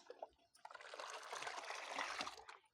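Egg-based liquid plant fertilizer is poured from a container in a short, soft, steady trickle that lasts about two seconds and sounds fairly close but quiet.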